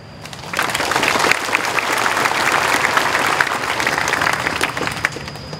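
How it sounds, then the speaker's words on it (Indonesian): Applause from an audience at a Monday morning staff assembly of Indonesia's Law and Human Rights ministry: a dense, even clapping that starts abruptly and carries on steadily through to the end, with no one talking over it. "Tepuk tangan dong."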